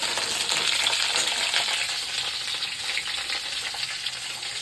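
Hot oil hisses and spits in a broad, continuous crackle, with scattered pops from frying for a winter khichuri. It is fairly loud, close and unbroken, and no voices are heard.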